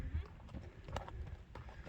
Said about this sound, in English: we got some horses coming